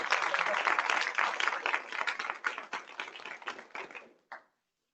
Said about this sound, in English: There was a great applause.